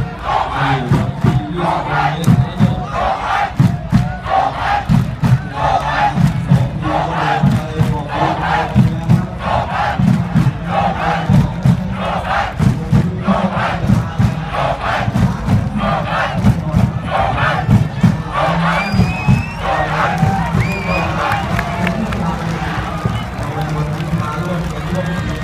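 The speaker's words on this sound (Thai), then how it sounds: "กองเชียร์กู12ตะโกนสุพรรณครับ" A school cheering squad shouts chants for Suphan in rhythmic, punchy bursts, many voices bellowing together over a busy crowd at a sports event.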